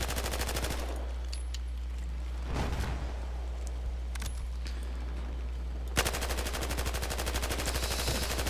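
Rapid automatic gunfire in a Battlefield Hardline multiplayer match, bursts of closely spaced shots at the start, briefly around the middle and again sustained near the end, over a low steady hum.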